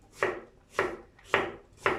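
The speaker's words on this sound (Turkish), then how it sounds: "Şimdi domatesleri de böyle kabuklu şekilde küp küp doğradık." Four steady knife chops on a cutting board, evenly spaced and close, each a crisp thud through soft tomato.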